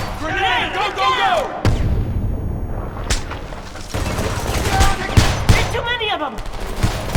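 Dense gunfire and machine-gun bursts with booms in the Homefront video game, loud and continuous, with people shouting over the shooting.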